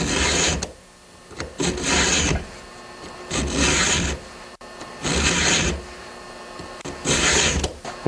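A hand file rasps across chainsaw chain teeth in slow, steady bursts of strokes, each run of filing followed by a brief pause before the next, close and clear with no talking.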